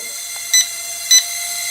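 Two short electronic beeps about half a second apart from a mini drone over a constant high-pitched whine.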